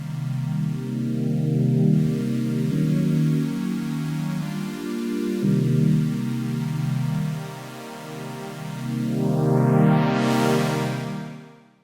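A Dave Smith analog polyphonic synthesizer plays a chord patch with a thick, rich low end and light fizz on top, sustained notes shifting between chords, closing with a bright rising filter sweep.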